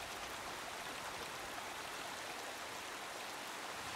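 Waterfall in Sea of Thieves rushing as a steady, even broadband wash of falling water, quiet and continuous without pauses, no voices over it.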